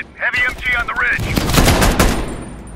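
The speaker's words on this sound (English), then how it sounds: "Heavy MG on the ridge!" Heavy machine gun firing from a ridge in the video game Call of Duty Black Ops Cold War rattles in a loud, rapid burst right after a shouted voice.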